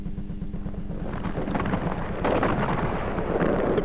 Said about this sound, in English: The pre-match fireworks set the scene for the Battle of Brisbane.